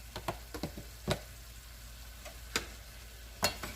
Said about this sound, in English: Let's stir that up in there.